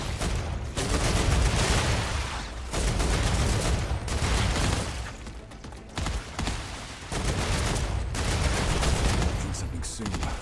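Gunfire in the sci-fi game StarRupture comes in long, loud sustained bursts of rapid shots separated by brief pauses, with a voice talking over it.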